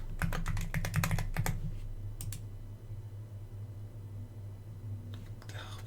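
A password being typed on a computer keyboard: a quick burst of close, crisp key clicks over about a second and a half, a couple of isolated taps, then a few more light taps near the end over a low steady hum.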